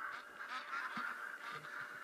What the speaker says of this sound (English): My goodness, those duck are loud, huh? It's gotta be like 100 of them.